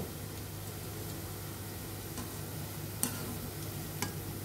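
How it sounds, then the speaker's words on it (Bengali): Chanachur snack mix frying in hot oil over a medium flame, giving a steady close sizzle with faint bubbling and a couple of small pops or ticks partway through. "এভাবে আমরা ভেজে নিব"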